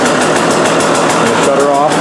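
A warmed-up 2016 KTM 125 SX dirt bike engine idles steadily up close, a loud buzzing two-stroke drone running throughout with a slight waver, and a voice speaks over it.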